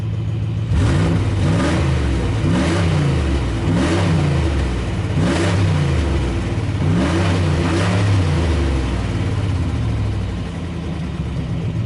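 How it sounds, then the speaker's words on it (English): A 2003 Dodge Ram 2500 pickup engine, in need of exhaust work, runs loud and close, its pitch repeatedly rising and falling in a series of about six even revs over a steady idle. "Needs some exhaust work, but the motor is nice and quiet."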